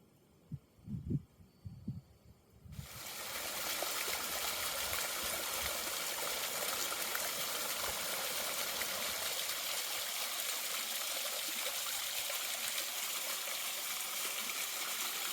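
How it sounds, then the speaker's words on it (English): A small unnamed creek along a mountain trail pours into a little pool, a steady rushing wash that starts abruptly after a few soft knocks and then holds even and close. "It's a lovely little stream here."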